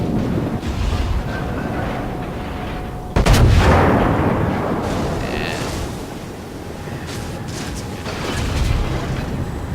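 In World of Warships, a battleship's 16-inch guns fire HE shells in one sudden heavy boom, followed by a long rumbling roar and wind-like noise.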